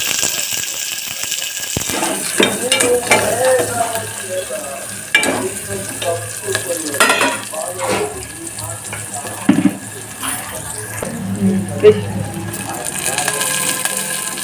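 Onions sizzle in a pan for a village-style egg curry with a steady hiss, broken by scraping and clinking of a spoon; a voice talks briefly in the background.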